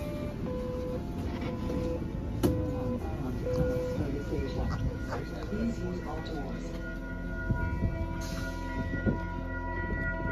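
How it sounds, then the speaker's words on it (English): A tram ride in Kitchener, Ontario carries a steady low rumble with clanks and rattles, and a brief horn-like tone surfaces over the ongoing rolling noise. "I take the tram to get there,"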